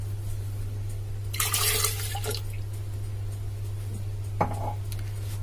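A cup of milk is poured into a blender jar for a cake batter, making a brief liquid splash and glug followed by a small clink, over a steady low electrical hum.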